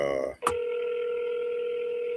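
A phone being dialed gives a short tone, then a steady electronic tone holds for about two seconds, clear and close, with no talk over it.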